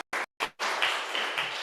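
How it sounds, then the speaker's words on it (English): Hands clap in a room during a closed mic session, with two quick short bursts followed by a longer, sustained round of applause from a small group, fairly close and loud. "You can clap yourself,"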